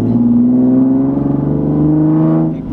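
A Nissan 370Z NISMO with its stock exhaust idles and revs with a steady, loud engine drone that rises slightly and then eases off, close and without talk.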